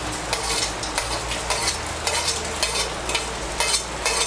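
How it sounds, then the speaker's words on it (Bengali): Stirring fried spice mix and chopped coconut into mixed vegetables for labra in a pan, a steady scraping and sizzling running throughout with repeated spatula strokes, close and fairly loud with no talking. "ভাজা মশলা আর নারকেল কুচিগুলোকে ভালো করে সবজির সঙ্গে মিশিয়ে নেব।"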